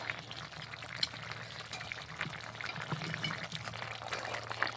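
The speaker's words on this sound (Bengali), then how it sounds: "এখন আমি ঢেলে নেব।" Country chicken curry being poured out of the pot makes a steady, soft wet pouring and sizzling wash with faint scraping, close but fairly quiet, and no voices.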